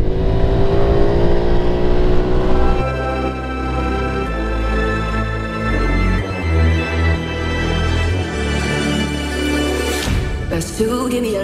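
A Honda Pop 110 motorcycle revs and pulls away, its engine note climbing loud and close before settling into a steady drone on the road.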